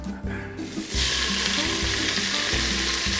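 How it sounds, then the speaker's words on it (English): Onions dropped into hot bacon grease inside an Instant Pot burst into a loud, steady sizzle after a brief quieter moment, with a few stirring scrapes beneath the crackle. "With the bacon grease still in there, I'm gonna add in my onions as the Instapot tells me we're hot"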